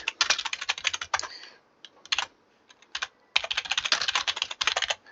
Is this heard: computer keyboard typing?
yes